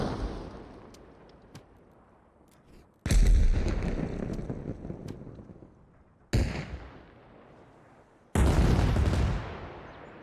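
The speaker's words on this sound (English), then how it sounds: "So artillery shells, you can drop singles." Artillery shells exploding one at a time in the military game Arma Reforger: four loud, deep booms with long rumbling tails, each blast fading before the next crashes in, no voices.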